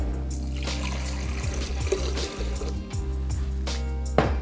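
Water pours steadily into a container, a close trickling stream with shifting gurgles over a low background hum.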